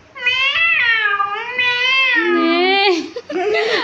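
A child imitates a cat's meow with a long, wavering vocal mew lasting about three seconds, close and clear, followed by a brief second voiced sound.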